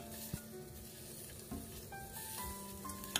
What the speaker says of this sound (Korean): 이제는 렌지에 불을 켜줍니다. 화력을 중불로 해서 살짝 볶아줍니다.